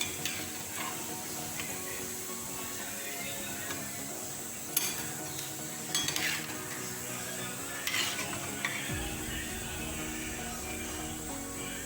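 Potato and spinach pakoras frying in hot oil, a steady close sizzle with a few sharp clinks of a utensil against the pan and occasional stirring scrapes, no voices.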